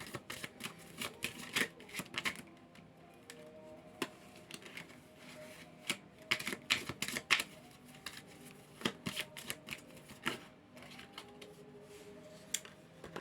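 A deck of tarot cards being shuffled on a small desk: repeated riffling and flicking bursts in an irregular rhythm, close and crisp over a quiet room, with no voices.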